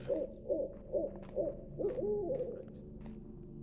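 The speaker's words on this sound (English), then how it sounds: "God, I love the sounds of owls" An owl in the stealth video game The Dark Mod hoots four times at an even, unhurried pace, then gives a longer, wavering call, all set against faint ambient hum.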